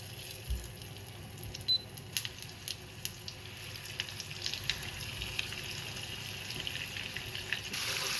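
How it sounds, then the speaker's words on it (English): Veal pieces for osso buco frying in a pan over medium heat, a faint steady sizzle with scattered crackles and pops, close-up, with no voices. "so we can start to fry and give a nice color into our meat"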